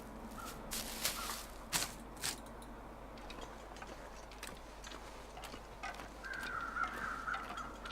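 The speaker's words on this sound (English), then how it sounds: "See the crows circling?" Crows caw a few times in the survival video game The Long Dark, sharp calls standing out near the start over a quiet ambient wilderness bed, with fainter clicks and steps afterward.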